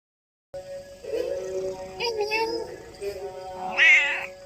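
A cat meows several times at a temple in drawn-out, wavering calls, close and fairly loud, with the last cry rising higher and more strained.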